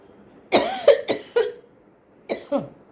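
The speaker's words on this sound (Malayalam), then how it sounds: "ചുമച്ചുകൊണ്ട് വേറെ ഒന്നും വിചാരിക്കരുത്." Several sharp coughs in two bursts, three or four close together, then a pause and two more, loud and close with no talking.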